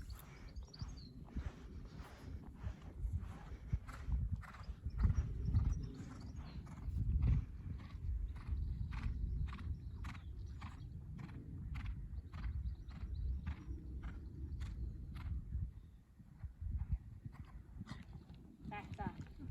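A horse canters around a showjumping arena during a riding assessment, its hoofbeats drumming steadily and fairly close, under frequent coaching talk from a woman instructor.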